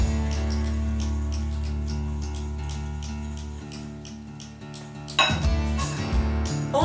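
A utensil clinks and scrapes around a bowl as homemade pancake batter of flour, sugar and baking powder is gently stirred, steady and close, ending in a few sharper knocks against the rim.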